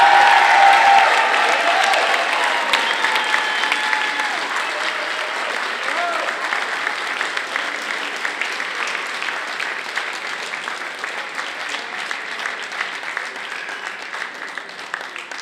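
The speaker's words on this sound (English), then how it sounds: "Would you please give a huge round of applause?" Crowd applause for the 2019 Open Singles men's softball handball champion, a sustained, dense roar of clapping that runs loud throughout and tapers slightly, with voices mixed in among the audience.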